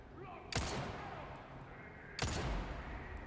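Two sharp gunshots from the video game Resident Evil 4, fired about a second and a half apart, each a loud crack with a decaying tail over a steady background din.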